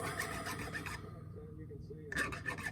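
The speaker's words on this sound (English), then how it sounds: "get these cleaned up, the burrs off. These are really fine files" Fine files scrape burrs off freshly cast finesse jig heads, giving a close, rapid rasping that stops briefly and then resumes.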